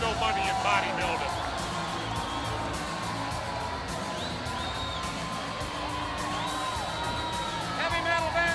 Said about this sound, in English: this jam-packed crowd here in Milwaukee at Mecca